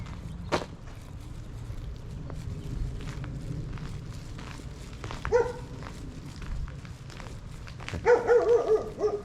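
A dog barking at night in a town, a short burst of several quick barks late on, fairly close, after quieter footsteps and rustling.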